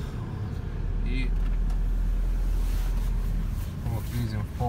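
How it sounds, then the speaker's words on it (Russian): Hyundai Grand Starex van engine held at full throttle yet failing to gain revs, a steady low drone with no rising pitch, heard up close under a man's speech. "вот видим полный газ. У нас машина не набирает обороты."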